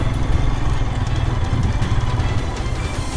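A loud, close Royal Enfield motorcycle engine roars and strains continuously, revving hard as the bike struggles in mud in Turkey.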